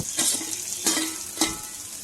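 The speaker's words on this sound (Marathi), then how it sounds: "आपण जी भेंडी भाजून घेतली होती ती टाकूया" Roasted okra stirred into a spiced masala in a hot pan, with three distinct scraping strokes of a spoon over a steady close sizzle, no voices.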